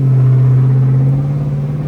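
A loud, rough, rebuilt Chrysler 300C engine with catless straight-pipe exhaust rumbles steadily at high revs, its deep drone holding for two seconds without a break.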